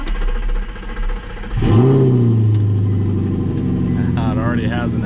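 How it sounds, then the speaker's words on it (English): An Audi R8 with an aftermarket exhaust fires up on its first start: a sudden loud bark swells into a rising rev, then settles into a steady, throaty idle, with a voice speaking briefly near the end. "This is the first startup"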